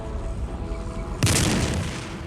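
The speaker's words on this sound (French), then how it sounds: "Le tireur de droite a lancé un coup d'essai." A Mark IV male tank's cannon fires a single trial shot in a First World War tank battle. After a quiet stretch comes one sudden heavy boom, followed by a rumbling decay.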